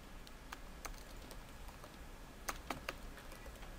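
Keystrokes tapped on a computer keyboard while coding HTML, coming as sparse, irregular clicks with a quick cluster near the end, faint and close against a low background hiss, with no one talking.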